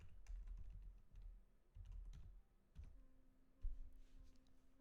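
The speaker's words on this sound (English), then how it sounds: "here you would type in the source email" Quick, light keystrokes on a computer keyboard, a close run of soft clicks in uneven bursts with brief pauses, quiet overall and without voices.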